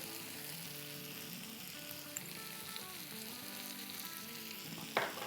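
Green chillies and coriander frying with chicken on a hot tawa, a steady close sizzle with soft crackle running throughout and one sharper pop near the end.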